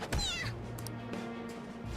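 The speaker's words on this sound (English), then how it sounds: "Goddamn cat!" A cat meows in the Persona 5 video game, a bright rising-and-falling cry near the start, followed by quieter game background sounds with a few faint, brief chirps.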